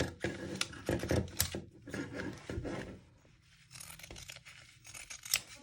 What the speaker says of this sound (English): Remember when cutting to always close your shears down all the way.